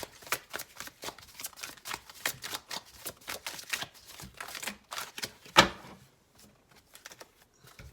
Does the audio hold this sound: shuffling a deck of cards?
yes